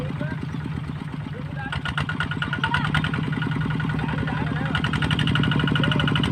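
A tractor's diesel engine idles nearby with a steady low chugging thump, rising slightly in intensity partway through; no voices.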